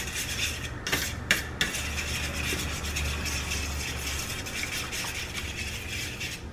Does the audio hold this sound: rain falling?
no